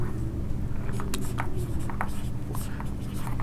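Chalk or marker writing on a classroom board, a run of short scratchy strokes at close range over a steady room hum.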